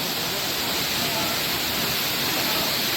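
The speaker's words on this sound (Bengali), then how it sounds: "এখানেই জলের ঝাঁক আসছে পুরো।" Rushing water at Changey Waterfall in Kalimpong makes a steady, dense, hiss-like roar that fills the scene evenly from start to finish with no pauses.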